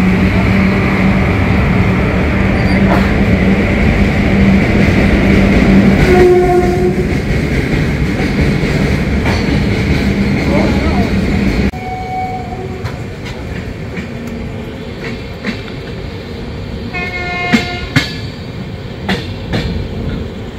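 Garib Rath Express hauled by twin WAG7 electric locomotives, with a loud, sustained rolling rumble and clatter that drops to a quieter hum midway, punctuated by horn blasts near the end.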